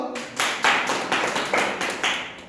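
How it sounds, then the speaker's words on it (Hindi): Students in a tenth-grade Odia literature class clap in a steady, rhythmic beat, six or seven sharp, fairly close claps in a row with no talking over them. "बाबाजी सठिक आंसर। जोर ताली दियो।"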